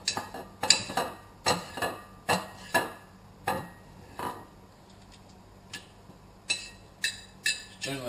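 A knife slicing food into strips on a cutting board in a home kitchen, giving a series of sharp, clicking chops at an irregular rhythm, close and fairly loud, with faint background hum and no talking.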